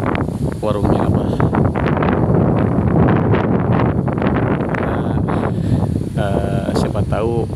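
Strong gusty wind roars continuously around an exposed roadside food stall during a storm, buffeting the microphone at a loud, steady level, while people speak intermittently over it.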